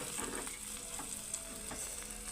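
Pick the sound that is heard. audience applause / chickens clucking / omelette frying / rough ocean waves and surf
omelette frying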